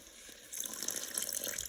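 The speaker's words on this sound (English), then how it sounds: "Okay, it's time for more water now." Water poured into a risotto pan on the stove, a short bright splashing pour that swells halfway through and runs steadily to the end, close and fairly quiet.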